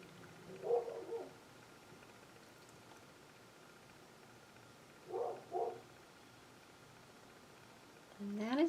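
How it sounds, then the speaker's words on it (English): Pit bull barking faintly in the distance, two short pairs of barks separated by quiet, followed by a brief nearer sound at the end. "And that is my neighbor's dog."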